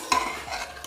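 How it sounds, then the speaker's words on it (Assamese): A spoonful of ghee added to tomato rice in a pan gives a brief soft sizzle with scraping stirs of a spoon, a short close-up burst of frying texture. "এতিয়া মই ইয়াতে আকৌ ঘিউ এচামুচ দি দিছোঁ"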